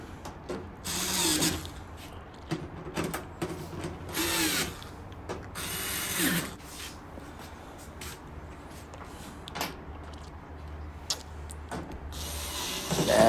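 Screws being tightened on a GE gas dryer, a series of short whirring bursts from a power driver with ratcheting clicks and metallic taps in between, close by and with no talking.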